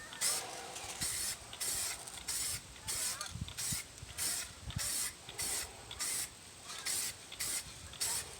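Spray gun applying a heavier coat of paint to a car wheel rim during a restoration, a steady hissing spray in repeated short bursts of roughly half a second with brief gaps between passes.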